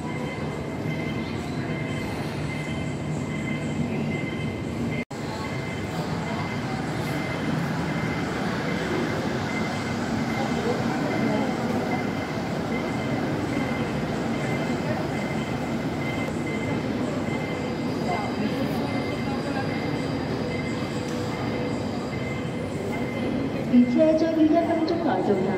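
At Hong Kong Airport, a terminal shuttle train rumbles steadily along its track with a hollow rolling drone. People talk over the noise, and an announcement chime sounds near the end.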